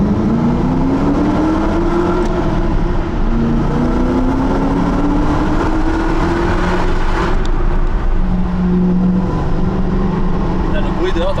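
A supercharged Ford GT V8 runs and accelerates, a loud engine roar with a rising whine as revs build, then a shift and renewed pull, with people talking over it throughout.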